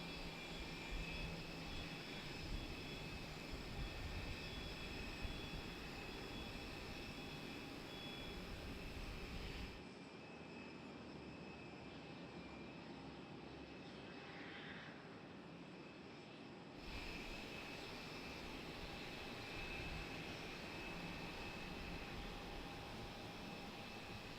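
An Embraer jet airliner at Raleigh-Durham airport produces a steady, distant engine roar that stays even and faint for the whole stretch, with a brief dip midway and no voices.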